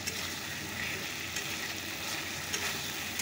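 Spice masala being sautéed in a pan over a gas flame: an even, continuous sizzle with occasional soft stirring scrapes, close and fairly loud.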